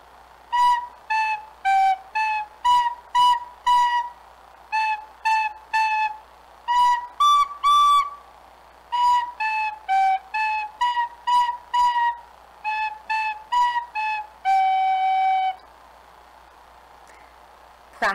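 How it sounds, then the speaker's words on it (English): Recorder playing a simple beginner lesson tune, short separated notes in a steady rhythm with a few held tones, clear and close with no talking. "practice playing the recorder"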